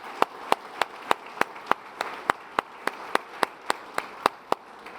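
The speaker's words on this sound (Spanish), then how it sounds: "Denle ese aplauso con toda gratitud al Señor." Church congregation clapping in a steady, evenly spaced rhythm of sharp claps, about three or four per second, over a soft room hum.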